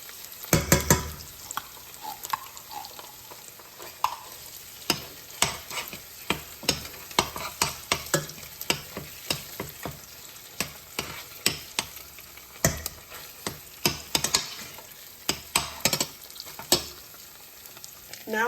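Tomato paste sizzling in a pan with olive oil, onion and garlic for a northern beans stew, a steady fry under frequent sharp scrapes and clinks of a spoon stirring at close range.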